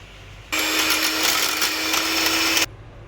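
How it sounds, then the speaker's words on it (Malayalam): An electric beater whips chocolate mousse at high speed, a loud steady motor whine with a constant buzzing tone that switches on abruptly, runs for about two seconds and cuts off, close up with no talk. "എന്നിട്ട് ഹൈ സ്പീഡിൽ ഒരു 4 മിനിറ്റ്സ് ഇത് നമുക്ക് ബീറ്റ് ചെയ്യാം."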